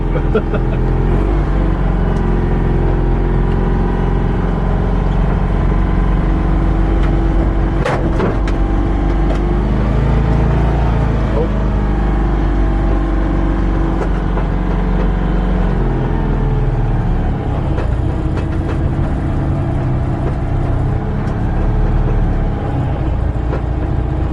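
A 1963 Citroen 2CV with weak brakes drives along. Its small engine makes a loud, continuous buzzing drone with slight shifts in pitch and a few knocks and rattles.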